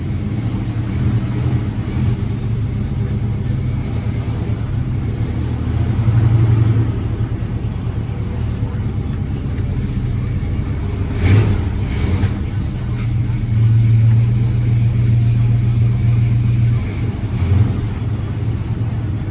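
An old Ford truck fitted with a swapped ZF5 manual transmission rolls in reverse, its engine giving a steady loud low rumble with a couple of brief swells in revs, heard from inside the cab.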